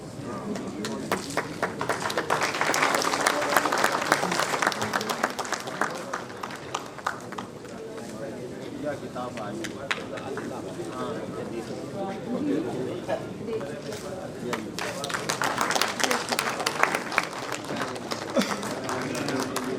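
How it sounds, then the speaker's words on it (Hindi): A rally crowd claps steadily in dense, continuous applause while an agriculture minister is welcomed, with a speaking voice carrying over it throughout and the clapping swelling again near the end. "तालियां बजती रहनी चाहिए।"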